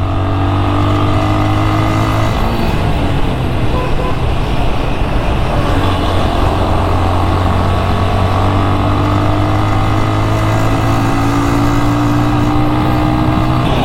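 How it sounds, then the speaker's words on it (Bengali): Engine of an old Bajaj Discover 135 motorcycle running steadily at close range, a continuous low drone with a constant rumble and no breaks or speech throughout. "বাইকটার দাম নিয়ে আলোচনা করার আগে 2024 সালে এসে এত পুরাতন একটা বাইক, সেটার ইঞ্জিনের কি অবস্থা সেটা চলেন একটু দেখি"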